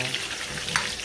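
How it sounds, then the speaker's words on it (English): Onion and seasoning frying in a pan for ackee and saltfish, a steady close crackling sizzle with a brief brighter spit partway through, no voices. "you're gonna let your onion, your seasoning cook a little bit"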